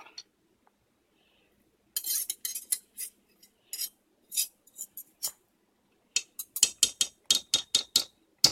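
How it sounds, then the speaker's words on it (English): A spatula scraping and clinking in a pan while stirring creamy skinny Alfredo sauce, irregular bright metallic taps and scrapes in short clusters that quicken toward the end, with no talking. "I'll mix it up with that spatula."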